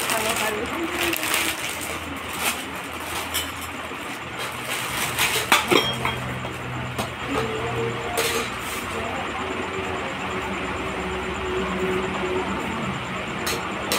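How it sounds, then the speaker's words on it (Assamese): Brass plates, bowls and spoons from a baby's gift set clink and clatter against each other in a dense, steady jumble of metallic chinks at close range, with someone speaking over parts of it. "এইকেইটা হ'ল কাছৰ পিতলৰ কাঁহী বাতি"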